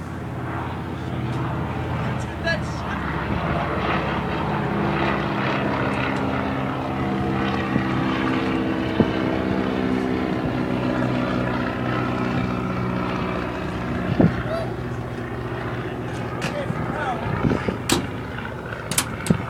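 A 1950s Cessna 310 twin with Continental O-470 engines runs up on the ground, producing a loud, continuous propeller and engine drone with occasional sharp clicks and knocks near the end.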